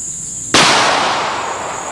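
A single loud .45 Win Mag gunshot from a Winchester factory 260-grain soft-nose hollow point load, one sharp crack with a lingering outdoor decay over a steady insect-like hiss.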